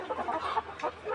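Layer hens cluck in a quick run of short, throaty calls at moderate distance, with a brief pause before a final burst.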